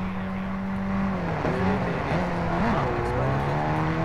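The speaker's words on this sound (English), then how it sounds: "I think the engine is too loud" Vehicle engine in the Warzone video game, a steady loud drone with shifting pitch as the vehicle revs and changes speed, running continuously throughout.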